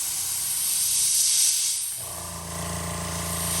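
An airbrush sprays paint onto a plastic tape craw fishing bait, giving a close, steady airy hiss that shifts partway through as a low tonal hum joins, with no talking.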